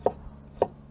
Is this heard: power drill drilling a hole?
no